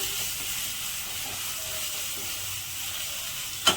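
Tomatoes sizzle steadily in a hot pan while a spicy chicken curry cooks, a soft continuous frying hiss with a brief clink near the end.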